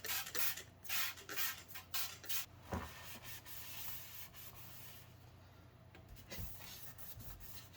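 A Commodore 64 circuit board scrubbed with a magic eraser: close, rhythmic rubbing strokes that swell and fade in quick pulses, then a softer steady scrub, heard alone with no talk.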